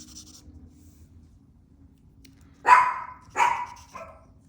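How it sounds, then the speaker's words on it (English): A dog barking nearby indoors in the morning, three sharp barks near the end, the last one softer, after a quiet stretch with faint scratching of coloring on paper. "My dogs are eating salad in the morning and barking."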